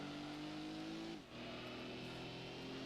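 A car engine in Gran Turismo 2 holds a steady, fairly quiet drone, with a brief dip and shift in pitch about midway, as if it is changing gear, before droning on.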